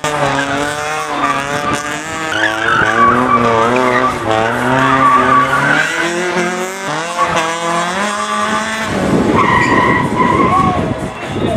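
A car in an autoslalom competition skids hard, with loud, sustained tire squeal that rises and wavers over a revving engine, close and continuous. Another harsh screech of rubber follows near the end.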